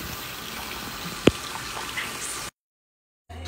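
Water runs steadily from a tap at a hair salon to loosen and remove a quick weave cap, a continuous close hiss with a single sharp knock partway through, then it cuts off abruptly.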